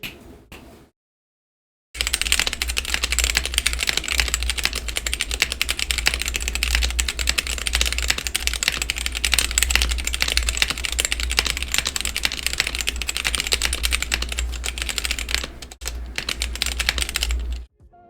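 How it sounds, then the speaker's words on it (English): Fast, continuous typing on a GamaKay K61 hot-swap mechanical keyboard with stock parts, dense clacking keystrokes close up, after a brief silent start and with a short pause near the end. "let's go ahead and get into the stock sound test of this keyboard"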